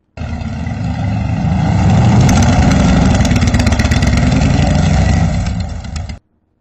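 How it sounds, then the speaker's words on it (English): A motorcycle engine rumbles steadily up close, swelling slightly in the middle as it rolls into a shop's parking lot, then cuts off abruptly after about six seconds. "She then heard a sound of a motorcycle entering the parking lot of the shop."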